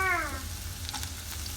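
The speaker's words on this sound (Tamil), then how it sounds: "இப்போ ஆயில் ஹீட் ஆனோன்னே நம்ம வச்சுருக்க ஆனியன் எல்லாத்தையும் இதில் ஆட் பண்ணிடலாம்" Onions fry in hot oil in a pan while fresh tuna is being cooked. A steady sizzle carries through the clip, with a short meow-like squeal at the very start and a few crackles later.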